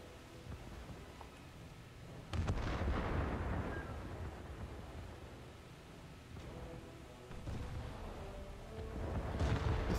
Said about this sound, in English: I'm not too worried about those destroyers shooting at me.